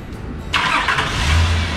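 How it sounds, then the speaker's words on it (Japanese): Nissan Elgrand E51 minivan engine cranking and catching after repair work in a garage, a brief starter whir then a sudden loud burst settling into a steady close idle. "エンジンかけて"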